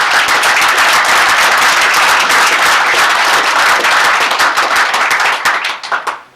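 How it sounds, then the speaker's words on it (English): Audience members at a Palatka city commission meeting give a round of applause, dense and loud hand clapping filling the room steadily before tapering off into a few last claps. "Let's get a round of applause"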